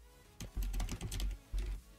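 Typing on a computer keyboard while coding Python in VS Code, with two quick bursts of soft close keystrokes separated by a short pause, quiet and alone with no talk.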